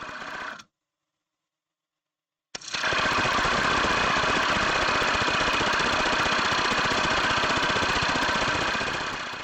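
Sorby texturing tool's larger middle wheel pressed against spinning wood on a lathe, giving a steady, loud broadband whir with rapid fine ticking that starts after a brief pause and holds continuously to the end.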